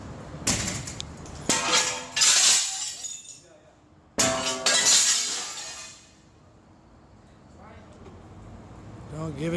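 Large plate glass shatters with a loud crash during demolition work, followed by a second crashing burst of breaking glass and tinkling shards, with a voice faintly audible afterward.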